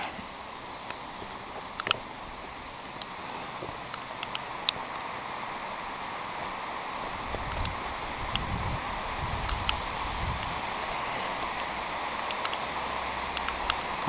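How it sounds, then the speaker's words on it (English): Steady broadband rush of rain falling near a waterfall, a continuous wash of water noise with scattered faint drips and ticks, and low rumbles swelling toward the end; no talking. "hopefully the rain will slow up"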